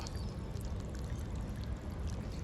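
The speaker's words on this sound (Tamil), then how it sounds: "இப்போ நான் அதுக்கு தண்ணி வச்சுட்ருக்கேன்" Steady watery pouring and trickling as garden plants, including a banana tree, are watered, a continuous broadband wash with no pauses, close by and moderately loud, with no voices.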